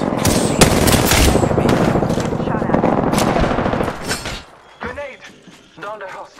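Loud, rapid automatic gunfire rattles continuously for about four seconds in a squad-based shooter video game, then cuts off, followed by sparse quieter game sounds and voice callouts.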